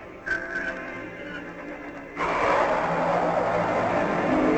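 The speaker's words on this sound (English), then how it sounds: "I'm firing braking rockets." Cartoon spaceship braking rockets fire with a sudden, loud hissing roar that kicks in after a brief whine and keeps blasting steadily to the end.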